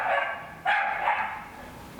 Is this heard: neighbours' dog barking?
yes